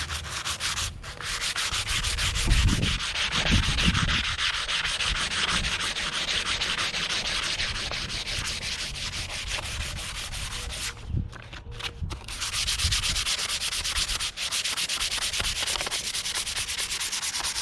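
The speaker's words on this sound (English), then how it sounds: "now I'm switching to 100 grit" Wood is hand-sanded with 100 grit sandpaper while an atlatl (woomera) is shaped from scratch, giving a steady, continuous rasping rub of rhythmic strokes up close with no talking.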